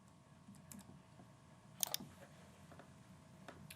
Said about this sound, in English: now I'm using the arrow keys because I'm just doing some fine motion here